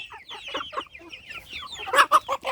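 Chinese silkie chickens cluck close by in a run of short, sharp calls. They start sparse and grow louder and quicker toward the end, with no talking.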